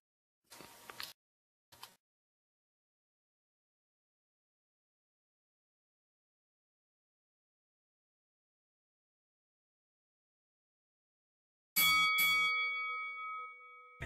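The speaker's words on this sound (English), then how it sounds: "I got it, the bell has rung, and now we're ready to go." A wrestling match bell in Second Life rings twice briefly at the start, then after a long silence clangs loudly again with several rapid strikes and a ringing tone that lingers to the end.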